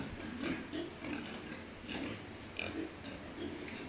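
Pigs on a Philippine pig farm give repeated short grunts and oinks, spaced irregularly at moderate distance, over a steady low background hum.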